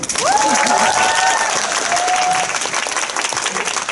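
An audience at a Korean film live talk event applauds loudly in a dense burst of clapping, with a sustained whoop or cheer rising over it before the applause thins slightly toward the end.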